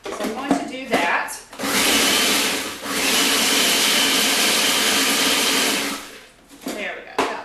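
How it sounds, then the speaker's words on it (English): A countertop blender grinds a snack mixture, a steady loud whir of several seconds with a gritty churning texture, starting and stopping with brief clatter at either end. "I might actually still have a few chunks in here that I might grind up just a little bit more"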